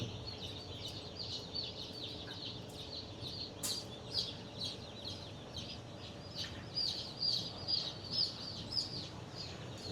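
Thin, high-pitched peeping of newly hatched desi chicks in an incubator repeats in quick succession over a low, steady background hum, fairly faint and close by.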